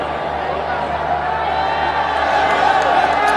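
Full stadium at a Twenty20 cricket match between World XI and Pakistan, with a steady roar of cheering, whoops and scattered clapping, sustained and loud, with a voice heard amid the noise.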